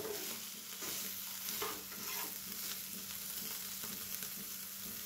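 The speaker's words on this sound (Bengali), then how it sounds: "এখন আরও একটু আমি সামান্য নেড়ে নেব" Paneer is being stirred in a pan for a sweet, with soft repeated scraping over a faint, low sizzle, quiet and close.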